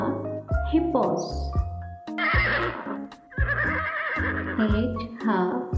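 A horse neighs in several loud, shaking whinnies close by, broken by brief clip-clop hoof steps between the calls.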